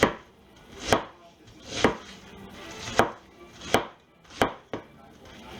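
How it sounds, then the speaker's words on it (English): Slow, evenly spaced knife strokes slicing cabbage into quarter-inch strips, each a crisp crunch ending in a thud on the board, about seven cuts roughly a second apart, close and clear without talking. "Cut it in 1/4 inch or so"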